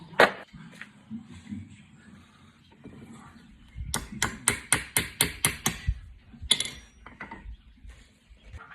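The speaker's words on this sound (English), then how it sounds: "I can hear the clink when it finally gets to the end, and I can stop hammering" A run of about eight sharp metallic hammer strikes driving pins against an anvil, ringing, evenly paced and close, with a few scattered clinks before and after.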